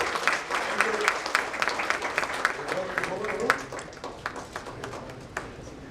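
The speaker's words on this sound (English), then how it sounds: "Can we have a louder round of applause?" An audience claps at an annual convocation of the Indian Insurance Institute in Kolkata, a moderate round of scattered hand claps that thins out toward the end, with a voice talking over it.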